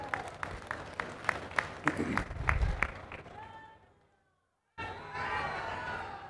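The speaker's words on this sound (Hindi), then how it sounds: "यदि लगा है तब तो हाथ उठाइए, तालियां बजाइए, न लगा हो तो मत करिए।" Political rally crowd in Odisha claps in a steady, loud rhythmic beat that fades out, followed by a brief silence and then a burst of broad crowd noise.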